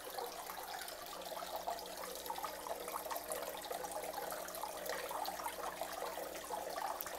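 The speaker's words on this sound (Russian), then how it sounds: "Водопадом журчит мой водопадик." Small decorative indoor waterfall in a winter garden, babbling and trickling steadily and softly at close range without pause, with no voices present.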